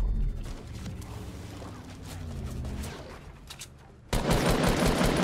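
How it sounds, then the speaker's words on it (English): Gunfire in a Fortnite tournament match, including sniper shots, heard as dense, loud rattling bursts that continue steadily, then a sharp jump into a louder, harsher volley near the end. "John Wick's literally one shot. He sniped me"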